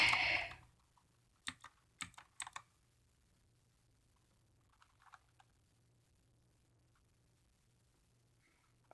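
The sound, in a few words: pressing WASD keys on a Redragon K551 keyboard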